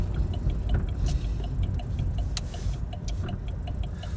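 Steady rumble of a car engine and road noise heard from inside the cabin while driving and turning around, with a faint regular ticking, likely the turn signal, running throughout.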